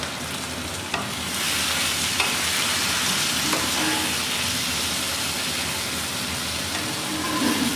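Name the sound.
eggplant, beans and chilli frying and being stirred in pan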